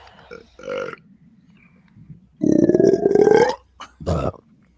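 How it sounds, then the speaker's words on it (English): Loud drawn-out burp from one man with a rising tone, framed by shorter belching grunts from others in a casual group drinking session, all in close, rough unison. "Sounds like we're all almost burping in sync."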